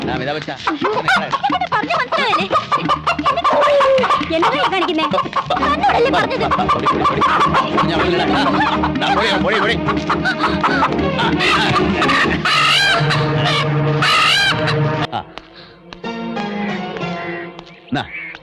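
A country chicken clucks and squawks as it is chased and caught in a Malayalam comedy film scene, with the bird's cries buried in a loud, continuous mix of music and commotion that drops away near the end.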